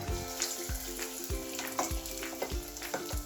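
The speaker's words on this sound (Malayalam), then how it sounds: "ഞാനിവിടെ ഒരു ചീനിച്ചട്ടി അടുപ്പിൽ വെച്ച് എണ്ണ ചൂടാക്കിയിട്ടേക്കുവാണ്. അതിലേക്ക് നമുക്ക് ഇട്ട് കൊടുക്കും." Soy chunk cutlets fry in hot oil in a pan over a medium flame, giving a constant close sizzle with a faint hum and a regular series of soft taps and bubbling pops.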